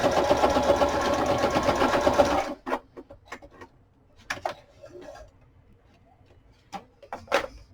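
A sewing machine stitches a short seam on a small file folder craft project, running in a loud steady burr for about two seconds, then stopping, followed by scattered faint clicks and handling taps.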